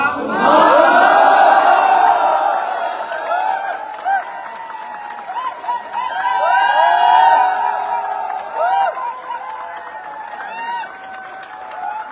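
At a company achievers' ceremony, a crowd greets its leader with cheering, whoops and clapping, loud at first, then rising and falling in waves with shouted voices mixed through.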